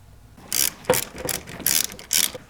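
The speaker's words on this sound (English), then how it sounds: "Now I can just tighten everything back down." Ratchet wrench clicking in quick bursts while bolts are tightened on a Toyota 4Runner engine during a spark plug change, several short rapid pawl-click runs, close and fairly loud with brief pauses between strokes, no talking.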